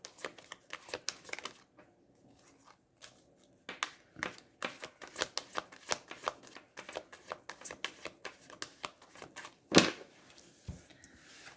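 Oracle cards being shuffled by hand, giving rapid, irregular riffling and slapping clicks in steady bursts, close up, with one sharper knock near the end and no speech over it.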